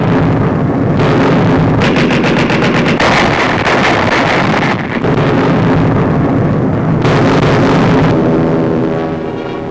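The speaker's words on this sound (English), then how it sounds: "Pom-poms, anti-aircraft guns blaze into action." Anti-aircraft pom-pom guns fire at night bombers over an Arctic convoy: loud, rapid bursts of repeated shots over a roaring, wind-buffeted rumble, the firing starting and stopping in long stretches.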